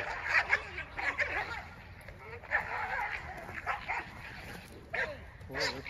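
Several dogs bark near a disc golf course, with short sharp yaps and yips repeating in uneven bursts at moderate distance amid outdoor ambience.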